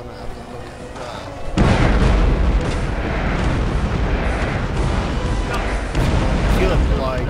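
Rumbling bombing explosions from the strategy game Earth 2150: The Moon Project, a loud sustained barrage of low booms that starts abruptly after a quieter stretch and continues densely to the end, with a fresh burst near the close.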